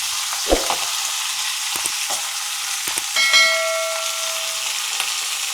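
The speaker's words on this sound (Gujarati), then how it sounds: "હવે આપણે આ મૂળાના પાન છે એ નાખી દેવાના." Radish leaves dropped into hot oil seasoned with asafoetida for Gujarati mula ni bhaji give a steady close sizzle, with a few sharp knocks near the start and a brief metallic ring midway.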